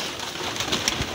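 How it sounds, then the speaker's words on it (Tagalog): Racing pigeons jostle while being fed, a dense, continuous flurry of cooing and fluttering close by, with no voices. "Nagkakagulo yung ibon natin."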